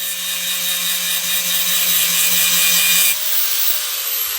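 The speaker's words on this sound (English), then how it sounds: "once you're done grinding it" A power grinder cuts away the rivets holding a round flange-mount LED truck tail light, a steady, loud abrasive whine with a low hum that holds for about three seconds before the tone shifts as the tool eases off.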